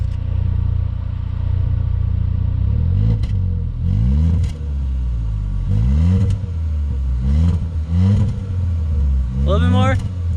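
A 2019 Hyundai Veloster engine revs several times in quick bursts, its exhaust rising and falling in pitch, close by, with a voice briefly speaking near the end.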